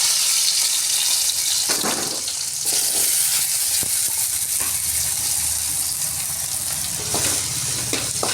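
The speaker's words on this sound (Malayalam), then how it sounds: "കൊച്ചുള്ളി ഇട്ട് കൊടുക്കാം." Small onions hiss and sizzle as they hit hot coconut oil in an iron pan, with a steady loud frying noise and a few stirring scrapes. No one speaks.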